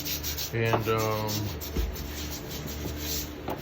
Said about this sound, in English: what we're doing is we're stripping all the old whitewash, the old sealer off of here